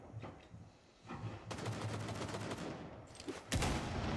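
Rainbow Six Siege gameplay: a blast rings out against a half wall, amid rapid gunfire bursts and loud impacts, with a strong sharp burst near the end.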